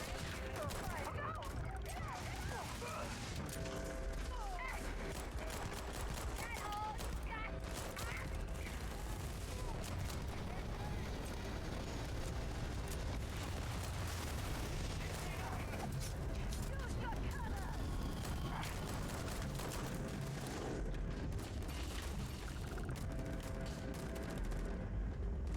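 Gunfire from shooting in the Starfield game crackles as a long run of rapid, repeated shots, with bursts of fire spread through the whole stretch while someone talks quietly over the action.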